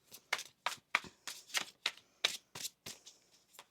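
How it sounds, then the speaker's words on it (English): Tarot cards are shuffled by hand in a steady run of about ten crisp riffling bursts, close and clear with no talk over them. "One more shuffle."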